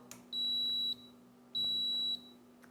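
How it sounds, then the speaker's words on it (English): Two long, steady electronic beeps from a Mealthy Multipot 2.0 multicooker starting up, each lasting about half a second, separated by a short pause. "that beeping is just telling me that it's set and it's getting started"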